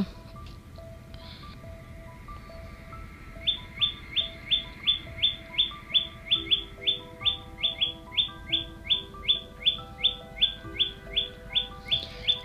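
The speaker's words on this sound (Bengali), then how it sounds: "আমার মেহেদি গাছে বসে পাখিটা ডাকছে।" A bird perched in a henna tree gives a long run of sharp, repeated chirps at an even rhythm, fairly close and clear over a low background hum, with no talking.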